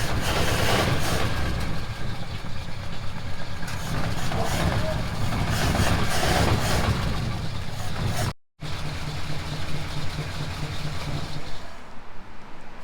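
A 1939 Ford Deluxe with a flathead engine runs while driving, a loud continuous low rumble close by that briefly cuts out near the end, with voices mixed under the engine noise.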